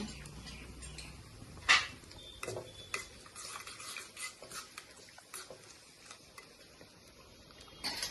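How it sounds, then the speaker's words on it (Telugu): Tempering spices frying in a pan for fenugreek-leaf dal, a quiet ongoing sizzle broken by spoon clinks and scraping stirs against the metal, with an occasional sharp tap. "అదిగండి అవి వేగిపోతున్నాయి కదా"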